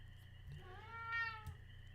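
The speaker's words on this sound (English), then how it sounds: "I want to actually see if I can get an angle on the kitty since he's meowing" A cat in the farming game Stardew Valley gives one clear, rising-then-falling meow, faint and alone over a low background hum, with a couple of soft clicks around it.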